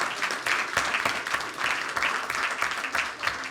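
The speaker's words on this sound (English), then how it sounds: "Another round of applause." A group claps together in a lively round of applause, a dense, uneven patter of many hands that holds steady from start to finish.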